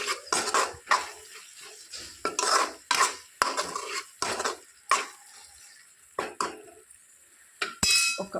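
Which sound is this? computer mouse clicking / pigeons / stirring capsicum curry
stirring capsicum curry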